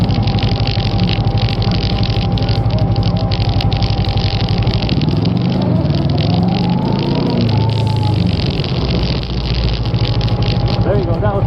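An adventure motorcycle's engine runs steadily up close over a noisy, wind-buffeted background, its pitch rising and falling slightly as it rides, while voices talk now and then.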